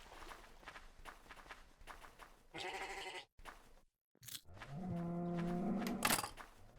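Sheep bleating and cows mooing in the Luanti Mineclonia block-building game, with footstep sounds at first and several drawn-out animal calls in the second half, one loud and close.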